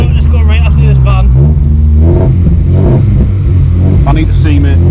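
A home-built car's engine revs with a loud, rumbling low growl that rises and falls, close up, while people talk excitedly over it.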